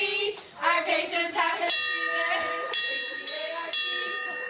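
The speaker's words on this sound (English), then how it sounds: "Ringing that end of treatment bell was the best feeling I ever felt" An end-of-treatment bell rung at a hospital after leukemia treatment, with a bright metallic clang struck several times and lingering ringing tones, over a background of voices and cheering.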